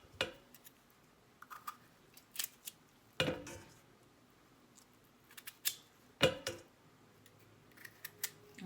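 Knife cutting potatoes into quarters on a board for potato salad: sharp, separate cutting strokes spread at uneven intervals, with three heavier chops standing out, in a quiet kitchen with no talk.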